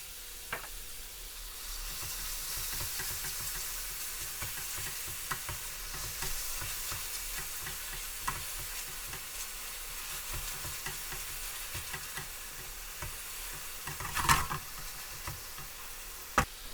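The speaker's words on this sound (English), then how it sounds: "Add the salt, cardamom and garlic and ginger paste and stir through." Salt, cardamom and garlic-ginger paste are stirred in a pot of frying onions, giving a soft continuous sizzle with scattered spoon scrapes and a couple of sharper clinks near the end, fairly quiet throughout.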